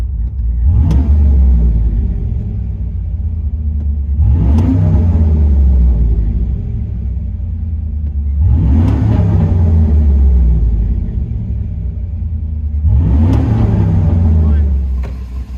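Cammed Chevrolet Silverado with a new muffler heard from inside the cab, its engine revved four times in slow, even pulses, each a deep rising and falling rumble with a lumpy idle between.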